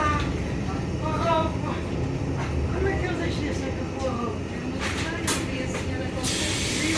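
Steady rumble and hiss of a Porto metro A-line train in motion, with faint chatter and occasional higher-pitched squeals from the rails.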